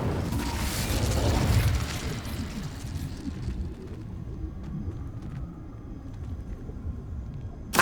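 Incendio fire spell cast in Hogwarts Legacy, a loud whooshing burst that rumbles and roars for about two seconds, then settles into a lower crackling, rushing hiss, with no talk.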